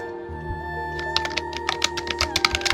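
Computer keyboard keys pressed during playtesting of a game, a rapid irregular clatter of close taps over a steady background hum.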